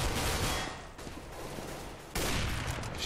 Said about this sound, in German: Oh, jetzt hat er die Waffe gesehen und verschießt.